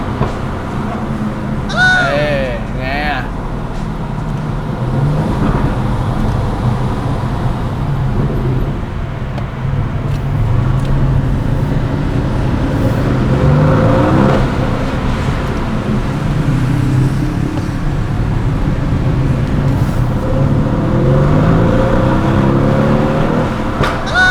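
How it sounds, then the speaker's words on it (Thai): An Aston Martin DB11 with a 4.0 twin-turbo V8 and stock exhaust revs and accelerates on the road. The engine roar rises and falls loudly and continuously, with speech audible over it. "ลองฟังท่อนะ"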